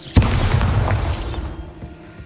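Bombarda explosion spell going off in Hogwarts Legacy on PS5: one sudden loud boom with a deep, rumbling blast that fades over about a second into quieter background ambience.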